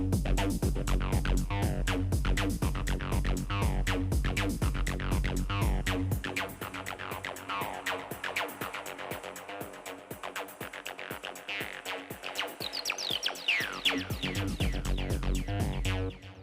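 A drum pattern played on an Elektron Octatrack with an acid line, punchy kicks and hi-hats in a steady driving groove under a squelchy, filtered synth bassline, with a sparser breakdown in the middle before the beat returns.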